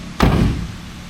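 A single heavy car door slam on a 1966 Chevrolet Impala SS, one sharp low thud with a short echoing tail, heard close by.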